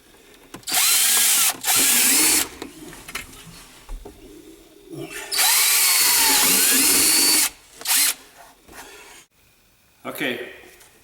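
Power drill boring holes with a large bit into metal while fitting a K&M buddy seat to a John Deere 6000-7000 tractor; loud whining bursts of drilling start and stop several times, with pigeons cooing softly in the background.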